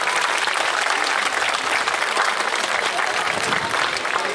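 Audience at a gala in Fălticeni applauds loudly and continuously, a dense wash of many hands clapping close by with no pauses.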